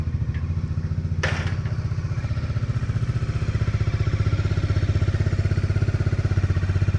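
A Bajaj Dominar 400 motorcycle engine idles steadily while warming up, with a close, even low-pitched thrum throughout and a brief clatter near the start.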